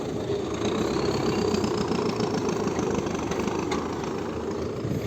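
A tractor engine runs steadily nearby, a loud, constant rumbling drone with a faint knocking rhythm and no break throughout.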